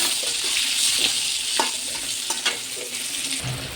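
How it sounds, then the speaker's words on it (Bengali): Potatoes seasoned with salt and turmeric fry in hot oil, a continuous close sizzle broken by a few sharp stirring clicks and scrapes, with no voices. "আলুটার মধ্যে একটু লবণ হলুদ দিয়ে আলুটাকে সুন্দর করে ভেজে নেবো লাল লাল করে"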